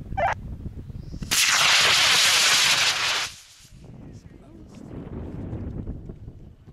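An Estes Interceptor model rocket launches on an AeroTech F24W motor under clear skies, a loud, sustained roaring hiss lasting about two seconds before cutting off, with a voice before ignition and wind and chatter afterward.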